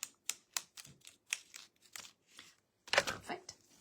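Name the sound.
scissors cutting plastic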